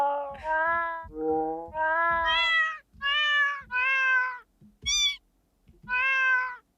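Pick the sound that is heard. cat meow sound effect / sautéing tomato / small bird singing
cat meow sound effect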